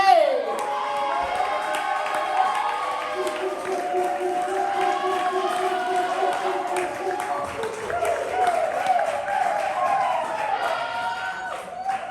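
Crowd applause and cheering at a poetry slam, clapping and whoops mixed with music in the room, steady and fairly loud throughout.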